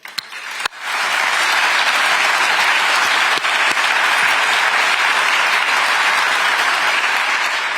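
Loud, sustained applause from a large audience at the opening of a Rheinmetall artillery ammunition plant, starting abruptly after a brief moment and continuing as a dense, steady wash of clapping throughout.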